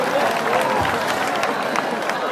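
Brief, scattered crowd clapping at a live event at a boys' national school, mixed with voices and movement.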